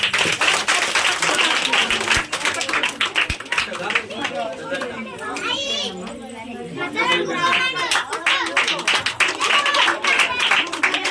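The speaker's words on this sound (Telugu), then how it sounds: "చప్పట్లు కొట్టండి బిడ్డ." People at a village Christmas celebration clap in loose bursts, crisp overlapping hand claps mixed with chatter and children's voices, fading to talk midway before the clapping picks up again.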